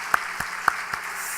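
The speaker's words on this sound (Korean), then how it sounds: "박수 치는 교회는 좋은 교회죠." A church congregation at a Sunday evening service claps. Only a few sharp, separate claps are heard, spaced out and moderately loud against a quiet room hum, with no voices.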